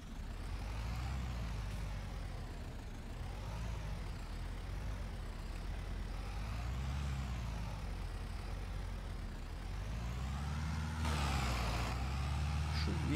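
Steady engine drone of a Massey Ferguson 310 tractor in Farming Simulator 22, loud and continuous with a rising and falling rumble, plus a brief hiss near the end and no talking.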